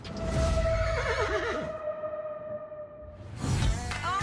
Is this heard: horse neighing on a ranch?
yes